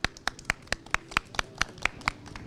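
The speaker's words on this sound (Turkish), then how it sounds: "Hüseyin için bir alkış alabilir miyiz?" Applause from a street audience for a young performer, a run of sharp, evenly spaced hand claps at a steady rhythm, close and fairly loud with no talking over them.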